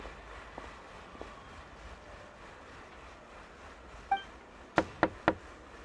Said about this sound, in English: Okay, I'll go knock on the door.